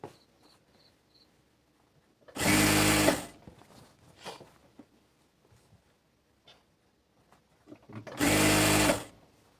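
A sewing machine stitches fabric over elastic for a girl's salwar, running in two loud bursts of a few seconds each, with quiet handling noise between.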